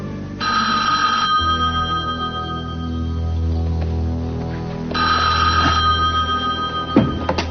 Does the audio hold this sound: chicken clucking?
no